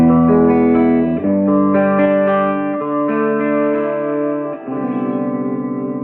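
An electric guitar on its bridge pickup plays sustained chords through a small 1960s tube tape recorder amp of about 5 watts, sounding mostly clean with slight breakup, loud and ringing with a steady wash of echo.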